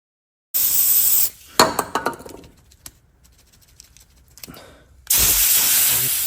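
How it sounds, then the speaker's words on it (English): Two bursts of aerosol contact cleaner spray hiss on a 1972 Kawasaki H1-B 500 motorcycle, separated by a few clinks and soft handling noises, close to the mic. "I'll spray some contact cleaner."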